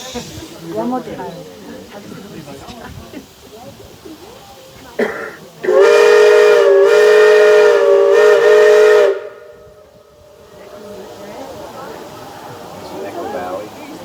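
A steam locomotive whistle sounds one long, loud, steady blast of about three and a half seconds in Echo Valley, Colorado, framed by hissing steam, background chatter and a fading echo afterward.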